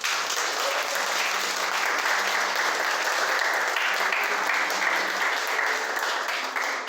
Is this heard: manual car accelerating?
no